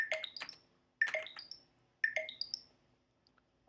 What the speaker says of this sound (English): that's the sound of the online typing indicator on my phone